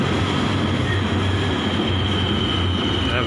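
A train rumbles past overhead on an elevated line in Kuala Lumpur, a loud continuous roar with steady rail noise close by.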